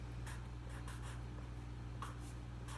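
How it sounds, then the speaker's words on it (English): A pen writes a name onto a list, making several short, faint scratchy strokes in quick bursts with small pauses between them, close up over a steady low background hum. "I should probably write Mr. Littlejohn on here"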